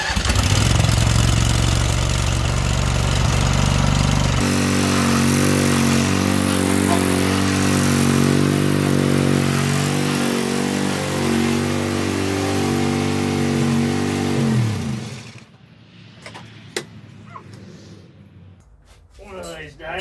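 The engine of a free lawn tractor runs loud and close. It roughens, then settles into a steady, throbbing idle before cutting off abruptly, leaving quiet handling noises.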